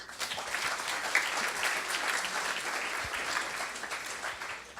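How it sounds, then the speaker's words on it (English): An audience at a working dinner session of a medical meeting applauds the speakers, a continuous wash of many hands clapping at moderate volume, even and sustained with no voices over it. "So a round of applause for them."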